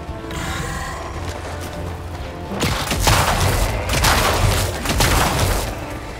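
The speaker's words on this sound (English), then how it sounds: "after you fully charge and fire for the first time, you can then shoot with only half charges" Electric gun in Helldivers 2 firing half-charged shots: loud crackling, booming discharges with mechanical clicks, a steadier hum first, then a dense burst of repeated shots in the second half.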